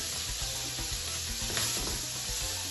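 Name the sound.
cognac sizzling and evaporating in a hot pan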